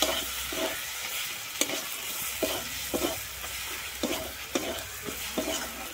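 Ground cumin and coriander are stirred and sautéed in a pan for a fig curry, with rhythmic scraping strokes every half second or so over a soft, steady sizzle, close and fairly quiet, with no speech.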